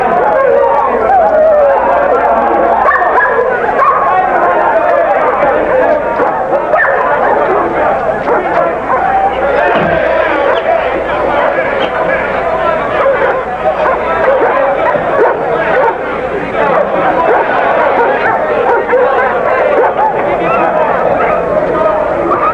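Dogs in a varmint-killing contest in a 1979 film: a dense, loud, continuous mass of barking, yipping and whimpering, with crowd chatter mixed in throughout.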